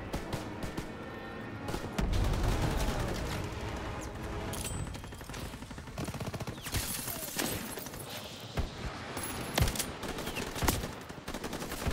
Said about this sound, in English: Oh, you're shooting through the window, aren't you?